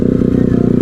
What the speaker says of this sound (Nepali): सो नरेशले बाइक चलाएर छ है